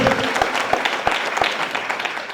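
Audience clapping at a talk on the ICMR Dietary Guidelines 2024: scattered, fairly sparse claps ring out at uneven intervals over a busy room murmur, sounding thin rather than forceful.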